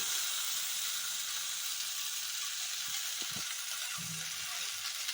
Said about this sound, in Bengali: মা সমস্ত মশলা দিয়ে নুন হলুদ দিয়ে কষতে দিয়ে দিয়েছেন।